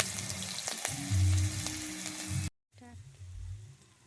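Green chillies and turmeric frying in oil for a mustard fish curry, a sizzling crackle with a brief louder burst, then a short gap before quieter frying resumes with some stirring.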